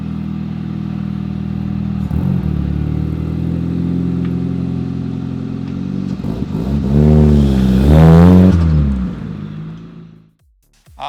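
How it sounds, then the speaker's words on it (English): A race car with a custom side-pipe exhaust idles with a deep, steady burble, then revs hard in a loud, rising and falling sweep near 8 seconds before cutting out abruptly. "There it is, mad custom side pipe race car exhaust."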